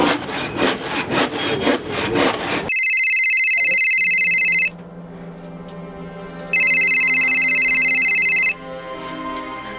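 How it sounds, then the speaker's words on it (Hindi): A telephone rings in two long, bright electronic bursts separated by a pause, after an opening stretch of rasping, sawing-like scraping, with no talking. "एक और रिंग जाती ना और तू फोन नहीं उठाती"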